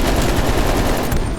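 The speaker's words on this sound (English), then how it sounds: "That's a machine gun." Heavy machine gun fire in the video game Call of Duty Cold War, a loud continuous rattling burst with no gaps.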